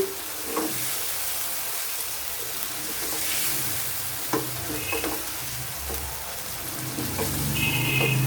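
Frozen kebabs sizzle in a frying pan as they are stirred, giving a steady crackle with irregular scraping and clacking strokes, rising toward the end.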